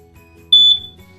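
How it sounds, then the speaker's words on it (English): A smoke alarm chirps once when its test button is pressed: a single piercing, steady electronic beep lasting about a quarter second, loud and close against a quiet room. "press the button on the smoke alarm"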